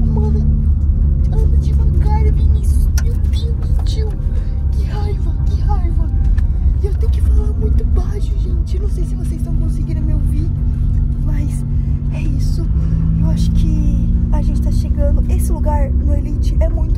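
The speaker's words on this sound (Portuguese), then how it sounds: "o Vini não para de acelerar esse carro, mano." A car accelerates along a road, its loud continuous engine rumble and road noise heard from inside the vehicle as people talk over it throughout.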